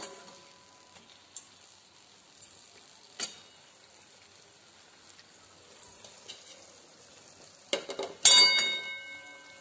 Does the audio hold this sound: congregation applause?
no